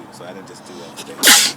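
A man's loud, close sneeze bursts out right after he finishes a sentence, cutting through his casual talk.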